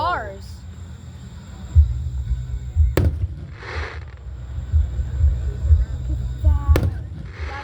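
Fourth of July fireworks in Marianna, Florida, with shooting-star shells popping and crackling at a distance in two sharp bursts and scattered thumps, while a crowd chatters and whistles nearby.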